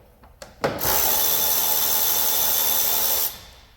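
A power tool spins up and runs at a steady high whine for a few seconds before cutting off, preceded by a couple of sharp clicks, as an 8mm clamp at an Ecotec engine's throttle body is loosened using an extension.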